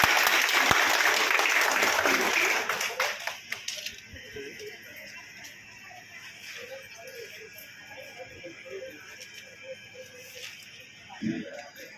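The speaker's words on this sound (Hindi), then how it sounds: "तालियों के साथ स्वागत करिए।" A crowd at a Hindu nationalist signature-campaign gathering in Varanasi claps to welcome guests, a burst of applause that rings loudly for about three seconds then quickly dies away, leaving scattered claps and murmuring voices in a quieter room.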